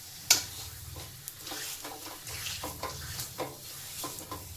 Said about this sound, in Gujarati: એકદમ સરસ રીતે ઘીમાં શેકાઈ ગયો છે આપણો ખજૂર